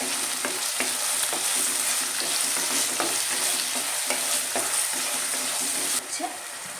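Chopped tomato sautéing in a pan for Kerala-style fish curry, a dense continuous sizzle with repeated scraping strokes of a spatula, close and steady, no talking.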